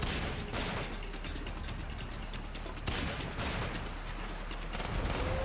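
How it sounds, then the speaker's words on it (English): A SandLand video game weapon launches a cluster of eight mini grenades, producing a rapid fusillade of sharp pops and mechanical clatter at moderate loudness, repeated in quick bursts. "the one that it does shoot shoots out like 8 mini grenades"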